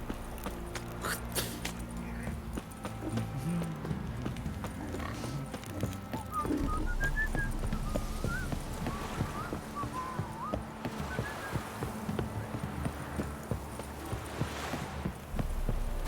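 A horse's hooves clip-clop at a walking pace in The Witcher 3, soft and moderately near, mixed with ambient game sounds and faint birdlike chirps.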